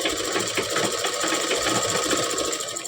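A sewing machine stitching the hem of a blouse runs in a steady, close, rapid mechanical chatter throughout, loud and alone.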